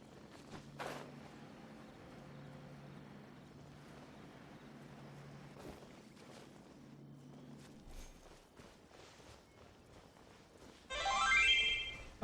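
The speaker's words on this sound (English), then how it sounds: "I forgot to turn off Discord notifications." Several Discord notification chimes sound during a Genshin Impact Inazuma story playthrough, ending in a louder burst of bright tonal pings near the end over quiet game background.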